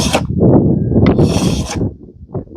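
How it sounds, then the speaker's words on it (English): A hand plane shaves across a black oak slab in a few long, close rasping strokes, with a brief higher scrape between them, loud and clear with no voices. "I'm going to plane this all off."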